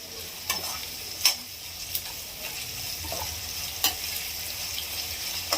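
Onions with a little salt and turmeric fry in a pan, a soft steady sizzle broken by several sharp scrapes and clinks as a spoon stirs them.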